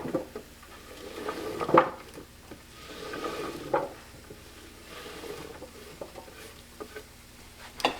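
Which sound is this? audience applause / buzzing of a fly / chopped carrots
chopped carrots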